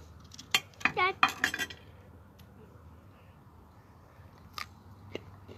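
A crunchy home-grown cucumber is bitten and chewed in a few sharp, close crunches bunched early, then quiet with a couple of faint later clicks.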